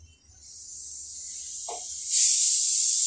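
Poppy seed paste hits a hot pan with a sharp, close hiss that builds and then swells louder near the end, a brief clink sounding partway through, no talking.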